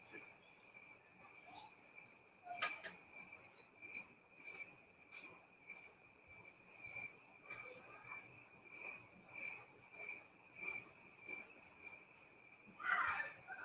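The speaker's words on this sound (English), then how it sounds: "let the crickets come in" Crickets chirp outdoors in a continuous, high-pitched, steady trill, fairly faint, with occasional soft background sounds and a brief louder noise near the end.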